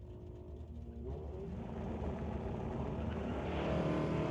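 Drag race cars launch off the start line at an ET Series bracket race, engines roaring loud and building steadily with no voices over them.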